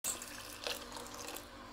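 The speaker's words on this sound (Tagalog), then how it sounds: "na-add ko ulit ng tubig" Water pours steadily into a pot of arroz caldo, a continuous soft splashing rush heard close up but at low level, with no talking.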